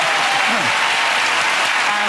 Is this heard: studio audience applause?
yes